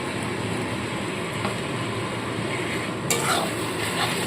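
Tomato puree frying in a pan with onion, ginger and garlic for a Bengali red chicken curry, giving a steady, even sizzle throughout with a brief stirring scrape near the end.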